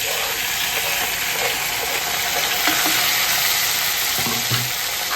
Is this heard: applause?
no